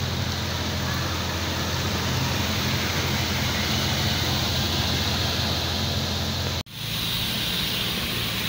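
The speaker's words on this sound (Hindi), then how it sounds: "बारिश बहुत ही शानदार हो रही है इस टाइम" Heavy monsoon rain pours down on a Karachi street as a dense, steady roaring hiss that fills the whole clip, loud and close, broken only by a brief dropout near the end.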